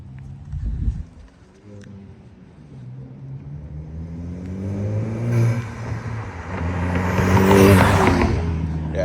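A Volkswagen MK7 GTI with a 2.0T engine and an APR carbon fiber intake revs through the gears in a drive-by, its engine note rising in pitch and loudness as it nears, ending with a loud intake whoosh.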